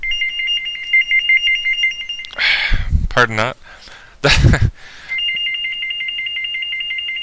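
A cell phone rings with a steady repeating electronic tone that stops as a person talks briefly over it, then starts ringing again and continues, loud and close.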